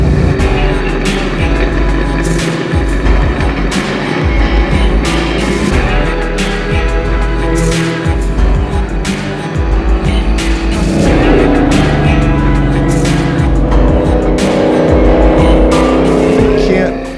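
The Eleanor Mustang from Gone in 60 Seconds driving on the road, a continuous low engine rumble with tire and road noise, steady throughout with a brief rise near the end as it accelerates.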